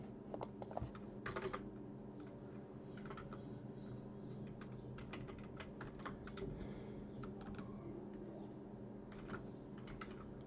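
Steady clacking of a computer keyboard as code is typed, with irregular bursts of keystrokes and short pauses over a low background hum, close and moderately loud.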